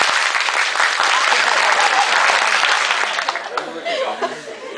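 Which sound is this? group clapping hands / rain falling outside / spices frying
group clapping hands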